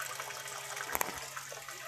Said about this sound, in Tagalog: Naglalagay na siyang tubig ngayon.